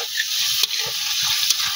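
Meat sizzling in a pan of fried ginger spice paste, a steady loud hiss of frying with soft scraping stirs of a spatula every half second or so, close and without voices.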